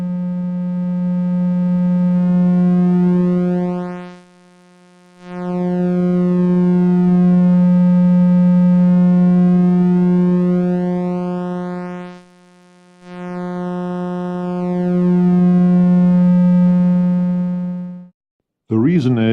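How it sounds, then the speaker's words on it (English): A SoloRack synthesizer oscillator plays a steady, loud, low buzzing tone in three long sustained stretches with short silent gaps, faint sweeping overtones gliding through it, and a brief blip at the very end. "Sine waves and triangle waves behave identical in this aspect."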